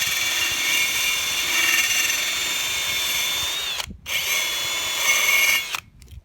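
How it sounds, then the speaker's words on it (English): Power tool grinding or stripping paint off steel rock slider tabs on a Honda Pilot before welding, a steady loud whine running about four seconds, a brief pause, then resuming before cutting off near the end. "The next thing I need to do is try to strip back the paint where I'm going to weld it here."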